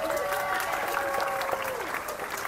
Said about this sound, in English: We got to be careful with the applause we put out today